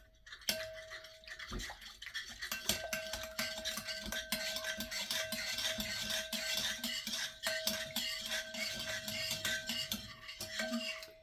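A dough whisk stirs ingredients in a bowl for an einkorn sandwich loaf, giving steady rapid scraping and clinking against the bowl, quiet and close, with no talking.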